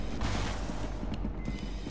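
Dense, continuous gunfire during an SCP: Secret Laboratory match, a steady loud rattle of shots that fills the whole moment without pause and with no voices over it.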